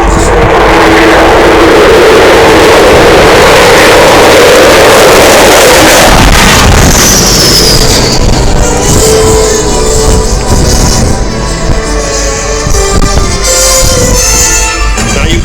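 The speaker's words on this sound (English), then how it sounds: "We just heard the beginning of the Vulcan howl from those four Olympus jet engines." An Avro Vulcan bomber's four Olympus jet engines at an air show build a loud, continuous roar, with a rising howling tone cutting through midway and sustained engine noise to the end.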